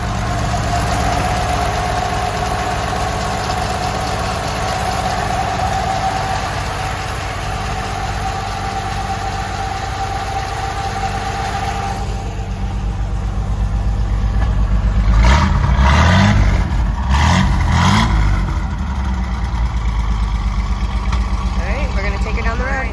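A 1980 Toyota Land Cruiser engine idles with a steady low rumble after a cold start, then revs up in a few short bursts before settling back down.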